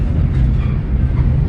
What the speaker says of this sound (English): Train rides are relaxing, aren't they?